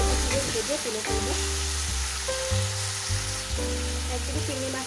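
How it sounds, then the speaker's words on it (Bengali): Shrimp frying in hot mustard oil in a pan, a steady close sizzle and crackle running throughout, with occasional clinks and stirring sounds. "একদিকে চিংড়ি মাছটা ভাজা হচ্ছে,"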